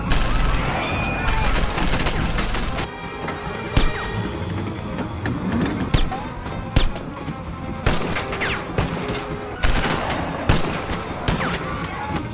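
Rapid gunfire exchange during a SWAT team's armed standoff at a bus, dense bursts of loud shots and crashes, with sharp individual cracks continuing through the scene.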